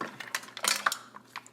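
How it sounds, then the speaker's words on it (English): Stirring mussels in gravy in a pot: a spoon clinks and scrapes against the pot in short irregular taps and clatters, close and moderately quiet. "And just stir everything in."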